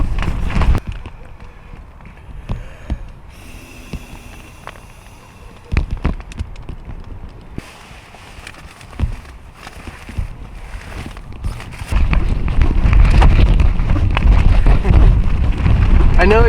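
A tarp shelter thrashing in strong high winds, with loud gusting roar and irregular flapping slaps that build to a sustained heavy buffeting toward the end, close and enveloping.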